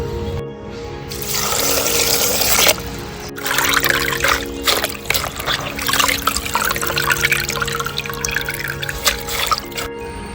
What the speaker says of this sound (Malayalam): ധാരാളം വെള്ളം ഒഴിക്കുകയാണ്